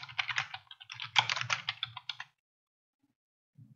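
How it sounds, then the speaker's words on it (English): Quick, steady typing on a computer keyboard as a shop name is entered in a craft-design program. Close, crisp keystrokes run for about two seconds, then stop into near silence, with one faint click at the end. "in the home screen, type in my shop name."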